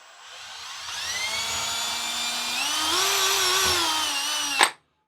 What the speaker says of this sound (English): Let's go ahead and drill.